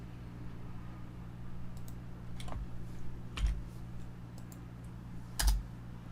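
A handful of sparse keystrokes on a computer keyboard tap out quietly and irregularly over a steady low electrical hum, with no talking.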